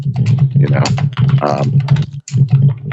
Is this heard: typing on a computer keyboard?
yes